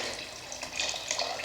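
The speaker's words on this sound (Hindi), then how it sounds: "अब इसमें हम पानी डाल देंगे।" Six glasses of water pour steadily into a pot of rice for vegetable pulao, a continuous close splashing rush with no talking.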